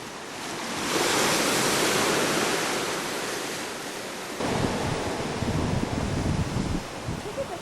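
Ocean surf at Big Beach on Maui, Hawaii, rushes in a broad, steady wash that swells, eases and then surges again with rougher breaking water.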